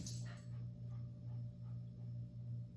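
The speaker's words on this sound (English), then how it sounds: "They're panting over there. The three of them are having an absolute brawl." Three dogs brawling and panting somewhere in the background, a soft, steady pulsing rhythm of breathing and scuffling with a brief sharper burst at the start, fairly quiet and with no talk over it.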